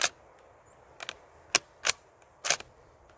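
Gunshots striking steel plates at a shooting range, five or six sharp reports spaced irregularly over a few seconds, some closely doubled, each ringing briefly, with no talking.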